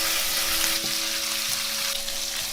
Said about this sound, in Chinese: 锅里油温热了之后呢，把肉末放进来炒香